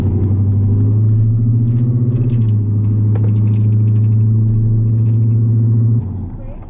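An SS clone truck's engine holds a loud, steady rumble under throttle for several seconds, then eases off; people talk over it.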